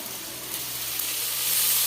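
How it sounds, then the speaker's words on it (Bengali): Ginger paste fries in hot oil with a dense, continuous sizzle that holds steady and swells slightly louder toward the end, close and without voices. "আদাটা ভালো করে ভাজা হয়ে গেছে"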